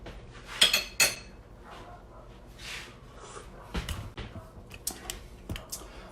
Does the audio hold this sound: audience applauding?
no